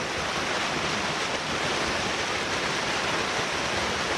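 A loud waterfall roars at close range from its base, a dense, constant rush of falling water that fills the whole sound with no pauses; Fallingwater Cascades on the Blue Ridge Parkway.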